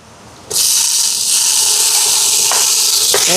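Tomatoes are dropped into a pan of sautéed onions, green chillies and curry leaves for a prawn curry, setting off a sudden loud, steady sizzle and hiss that runs unbroken to the end.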